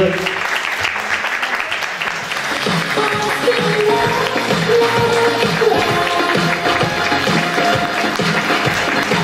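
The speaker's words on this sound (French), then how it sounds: "En attendant, je vous demande de l'applaudir, Roxane Oxeli, Miss Oise 2016." Steady applause from a crowd at the Miss Oise 2017 beauty pageant, a dense clapping wash that runs the whole time, mixed with background music.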